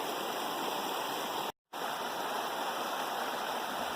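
Isinglass Falls pours steadily on a wet summer day, a constant hissing, rushing roar of falling water heard up close, briefly cut out for a moment before resuming unchanged.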